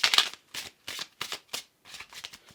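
Tarot cards being shuffled during a card reading: about eight brisk, crisp riffling bursts in quick succession, close and clear, with no talk.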